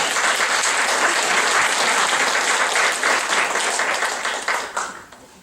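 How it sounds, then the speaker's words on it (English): Audience applause at a civic leadership forum, sustained loud clapping from a crowd that gradually thins to a few last claps and fades away. "Let's give Sandy and Anthony a big round of applause."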